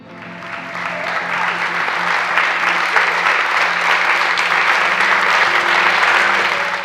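An audience applauds dance performers with sustained, dense clapping that swells in the first seconds and then holds steady, over a low hum.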